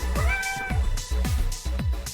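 A house cat meows repeatedly, about four short, close, insistent calls in quick succession with brief gaps between them, fairly loud and with no talking over them.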